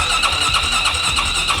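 A Yamaha YZ450F motorcycle engine idles steadily at close range with a strange mechanical noise, a continuous buzzing drone with rapid rhythmic pulsing and no speech.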